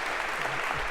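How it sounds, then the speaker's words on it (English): A lecture-hall audience claps for a demonstration, a short, dense burst of applause at moderate loudness with no talking over it. "I think we give you a round of applause for having done that very well"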